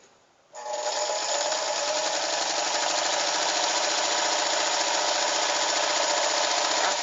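A sewing machine runs steadily, stitching the side seam of a rag doll's little arm; after a brief quiet start it whirs continuously and close up, with no talking.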